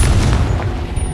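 Confringo blasting spell cast in Hogwarts Legacy, a loud, heavy boom with a dense low rumble that carries on steadily through the whole short burst of game audio.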